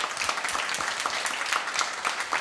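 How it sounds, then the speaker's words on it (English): Audience applause at an event centre, dense steady clapping throughout, loud and close with scattered sharper claps, no talk over it. "Let's give them a big round of applause."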